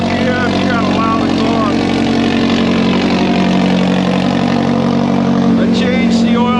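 A Can-Am off-road vehicle engine revs and idles loudly up close, with a few throttle swells over a steady mid-pitched drone, while people talk over it.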